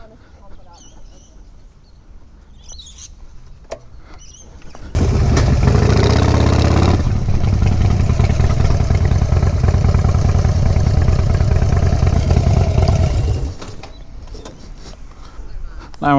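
A motorcycle engine starts up close by and runs loudly, idling with some revving for about eight seconds before cutting back; speech murmurs faintly before and after.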